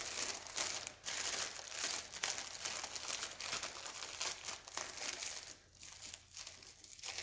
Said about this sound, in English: And then we're going to put that inside this cellophane fold.